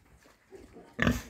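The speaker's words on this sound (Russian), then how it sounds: "Чуня хрюкает" A pig on a small farm gives a short, loud grunting burst near the end, picking up the smell of minced fish, after a quieter stretch of low shuffling.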